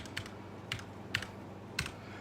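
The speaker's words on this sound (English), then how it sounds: "Type in the old fancy password" A password typed on a computer keyboard: four quiet, isolated key clicks spread over about two seconds, close and faint against a low room hum.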